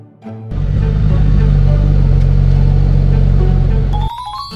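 A motorcycle sets off near Lake Yamanaka after a hot-spring stop. Its engine bursts in loud and close after a brief quiet lead-in, holds a rough, full roar for about three and a half seconds, then drops away abruptly.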